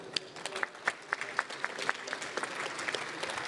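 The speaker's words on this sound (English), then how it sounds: "please give a hand of applause to what a fantastic panel." An audience applauds a panel at a high-level business session, with distinct individual claps near the front over a softer, steady spread of clapping from the room.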